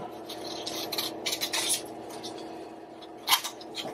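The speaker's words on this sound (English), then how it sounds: "I'm just going to cut out kind of the same shape as these guys here. Just going to cut 1 and 2." Scissors snip through paper while cutting out shapes for a paper frog craft, with a few crisp, close cuts and a sharper snip near the end.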